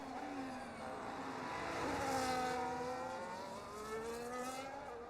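A Sauber race car crosses the finish line in a sim racing event at the Saudi Arabia circuit, its high engine whine swelling as it approaches, peaking, then falling away in pitch as it passes.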